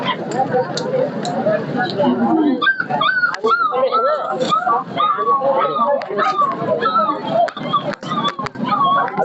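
Puppies, including Labrador, pug and Pomeranian pups, yip and whimper near and loud at a dog show in Beed, with high whines repeating constantly while people talk over them.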